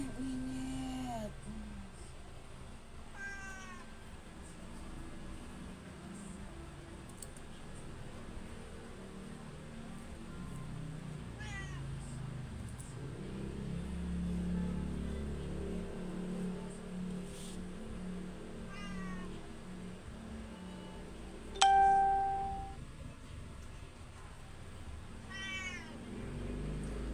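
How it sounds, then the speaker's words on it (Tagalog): A cat meows repeatedly in short rising calls spaced every few seconds, fairly faint over a low steady background, with a sharp tonal beep partway through. "Nag-meow-meow na siya."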